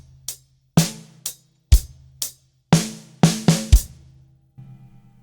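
Slow drum fill played left-right-left on a drum kit, with a series of separate sharp hits at an unhurried pace and a low bass tone underneath, no talking.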